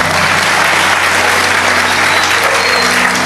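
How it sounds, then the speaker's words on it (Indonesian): Loud, dense applause from a large audience at an Islamic sermon gathering, a steady wash of clapping with a faint low hum underneath and no voices. "tepuk tangan dong."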